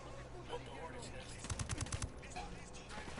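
Sniper gunfire in the video game Ghost Recon Wildlands: a quick run of about six sharp shots cracks out midway, fairly faint against a busy background of ambient game noise.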